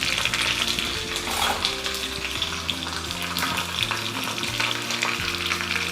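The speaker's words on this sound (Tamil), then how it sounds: "நல்லா தாளிச்சிக்கலாம்." Dried red chillies and curry leaves sputter and sizzle in hot oil for a Kerala-style beetroot pachadi, a steady close crackling frying sound with a spoon stirring the pan.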